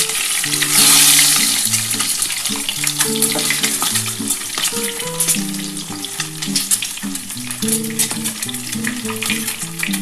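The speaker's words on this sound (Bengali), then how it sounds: "আমি ডিমটা ছেড়ে দিচ্ছি। একটু গ্যাসটা একটু আস্তে করে দেবে, নাহলে ডিমটা ছিটকে যাবে।" A duck egg dropped into hot oil in a pan, giving a loud, bright, spattering sizzle that swells at first and then settles into a steady crackle, with a tonal melody playing underneath throughout.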